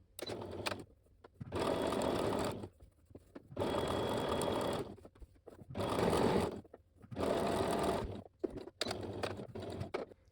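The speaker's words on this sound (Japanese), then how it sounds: "この端を縫っていきます" A sewing machine stitches along the edge of the fabric for a flat-felled seam on a sleeveless kimono, in four loud, even bursts of whirring with short quiet pauses between.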